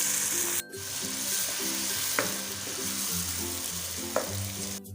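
Steady hissing sizzle of onions frying in hot oil, close and continuous, with a couple of faint clicks and an occasional stir.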